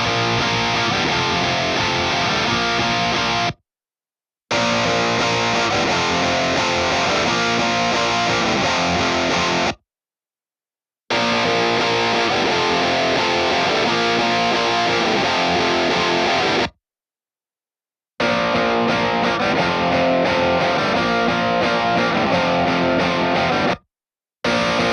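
A heavily distorted electric guitar played through amp simulator presets from a pack, loud chugging riffs in four long bursts separated by short silences as the presets change.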